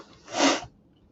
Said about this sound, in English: I don't know why I've got the sniffling going on this morning.